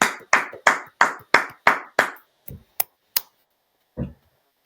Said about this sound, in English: And clap your hands,